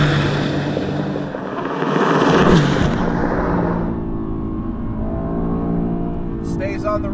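A 2020 Mercedes-AMG GT C engine holds a loud, sustained roar at the red line without upshifting, then fades and settles, heard from inside the car with a brief voice near the end.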